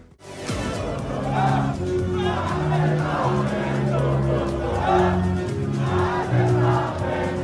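A big Tifosi crowd on the hillsides at the Emilia Romagna Grand Prix in F1 25 roars and chants, a loud, steady wall of cheering with rhythmic swells and no talk over it.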